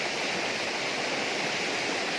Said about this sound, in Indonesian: Air semakin deras.